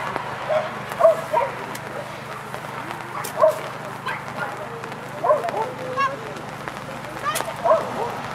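A dog gives short, scattered barks and yelps at intervals, fairly close, over a low steady hum.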